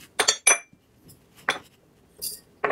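Garlic, bay leaf and pickling spices dropped into a quart-sized glass jar, giving a few bright clinks and small rattles in short separate bursts, close and fairly clear with quiet gaps between them.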